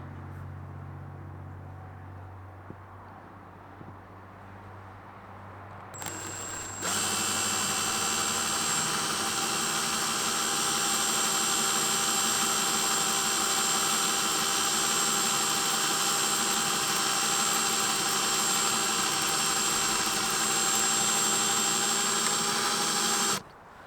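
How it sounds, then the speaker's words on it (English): A small drill bores into a crack in a 2020 Dodge Challenger windshield during glass repair, cutting in after a quiet lead-in as a loud, steady high-pitched whine that holds for about seventeen seconds before stopping abruptly. "You have to be straight on because I'm trying the small drill."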